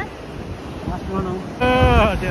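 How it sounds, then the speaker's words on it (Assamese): Ocean surf and gusting wind buffet the microphone at Marina Beach in Chennai, a steady wash of wave noise, with voices rising near the end. "এতিয়া আহিলোঁ মেইনা বিচলৈ"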